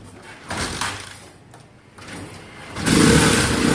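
Happy Motorcycle 200cc three-wheeler from 2018 with a carburettor problem being started from cold, a couple of sputtering cranks followed by the engine catching into a loud, rough, close idle.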